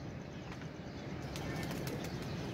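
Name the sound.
pigeons in a coop, wings flapping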